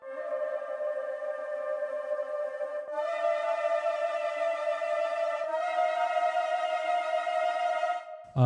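Sampled woodwind ensemble playing sustained high major trills, a bright shimmering tone held steadily with a swell in intensity partway through and a brief cutoff at the end; no voices.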